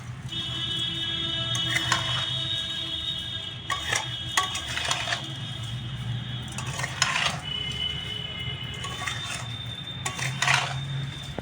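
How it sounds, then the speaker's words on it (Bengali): Sugar melting in a hot pan, stirred with a spatula for a sweet preserve, with repeated metallic scrapes and clinks of the utensil against the pan over a low, steady background. "আর এমনি একটু খুঁটি দিয়ে ভালো করে একটু নাড়াচাড়া করে নেবো"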